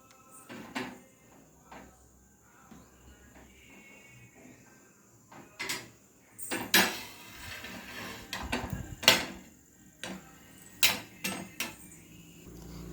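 Pan set down on a gas stove before roasting bread: a scattered series of metallic clanks, knocks and scrapes of cookware on the burner, close and sharp against a quiet kitchen, with no talk.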